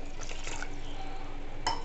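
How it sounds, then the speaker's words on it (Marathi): Water pours steadily into a small pressure cooker holding kabuli chickpeas with salt and cloves, giving a continuous close splashing rush that ends with a light clink. "तर आपलं पाणी टाकून झालं आहे"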